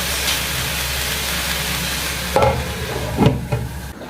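Chopped celery cooks in a pot for broccoli soup with a steady, close simmering hiss, then a couple of clattering knocks near the end as the pot is handled.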